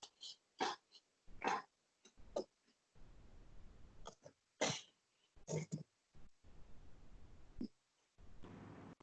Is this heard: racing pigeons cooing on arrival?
no